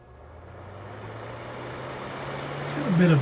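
Vintage Markel NuTone Scovill 445TN space heater fan spinning up from rest, a low steady hum growing louder over a few seconds, with a short scraping sound near the end.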